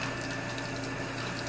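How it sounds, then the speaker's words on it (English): Water poured slowly over the electronics area of an RC car being cleaned, a steady close splashing trickle that runs unbroken throughout with no voices. "Just slowly pour the water onto it, not too hard, just slowly."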